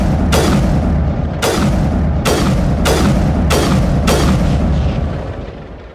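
Grenades exploding in the video game Mass Effect: six heavy booms in quick succession, each with a sharp attack and a rumbling tail, loud and close, fading out at the end.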